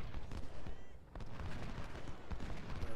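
Cannon artillery fire from the Ultimate General: Civil War game at the South Mountain battle: a dense, continuous rumble of distant booming volleys with irregular heavier thumps, steady and fairly faint.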